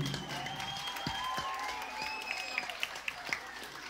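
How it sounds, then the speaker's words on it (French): Audience at a Miss Saint-Martin/Saint-Barthélemy beauty pageant gives a round of applause, moderate clapping under some background voices and whistling tones, with a handful of distinct sharp claps near the end. "Sous vos applaudissements, mesdames et messieurs"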